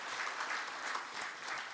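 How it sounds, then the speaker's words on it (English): Dense, steady audience applause at the Ayute Africa Challenge Uganda 2022 gala dinner: many hands clapping together in a brief, even burst with no break. "Round of applause, ladies and gentlemen."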